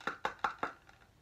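Four quick, crisp knocks on a sturdy shaker bottle land in an even rhythm, followed by a couple of fainter taps, close and fairly quiet.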